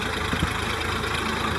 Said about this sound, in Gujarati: આ જૂનું મોડલ ટ્રેક્ટર છે મિત્રો,